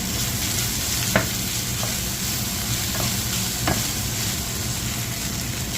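Pancit canton noodles with vegetables being stirred in a hot pan, a steady close sizzle with occasional scraping knocks of the utensil, no voices.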